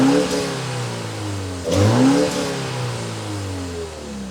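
BMW X2 M35i engine fitted with a particulate filter, revving: a muted engine note that climbs and falls, with a sharper rev surge midway, close and fairly loud, no voices.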